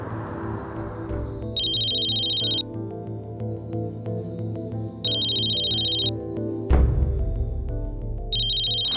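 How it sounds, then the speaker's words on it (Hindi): Phone ringtone from an outgoing call, a repeating electronic ring in several bursts with pauses between them, playing over soft background music. "मैं जिग्नेश को फोन करती हूँ।"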